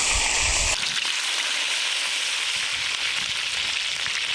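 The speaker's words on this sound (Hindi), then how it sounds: "ऑयल गर्म होते ही हम लोग चॉप्ड जिंजर और गार्लिक डालेंगे।" Chopped ginger and garlic dropped into hot oil for chicken noodles, a loud sizzle that starts suddenly and then keeps up a steady close crackle.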